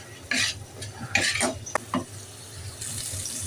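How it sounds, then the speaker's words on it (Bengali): Ground turmeric, cumin, coriander and garam masala with salt fry in oil in a pan, heard as a low sizzle broken by several scraping stir strokes. A brighter hiss rises near the end. "মশলাটা ভাজা হয়ে গেছে"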